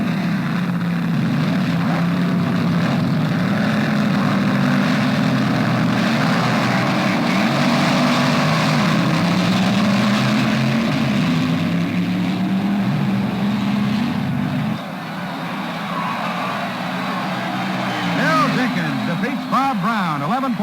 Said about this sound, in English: Bob Brown of Montclair, New Jersey, in a 65 Plymouth. He'll be opposed by Bill Jenkins in his white Camaro